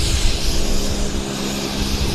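A Pilatus aircraft taxis out at Vancouver Airport, its propeller engine giving a steady, loud broadband roar with a low hum throughout.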